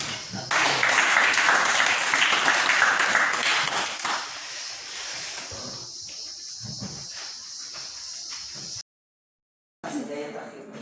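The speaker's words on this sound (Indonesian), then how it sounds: "mari kita berikan aplaus sekali lagi" Classroom applause after group presentations, a loud burst of clapping that fades into scattered claps and room noise, followed by a short silence.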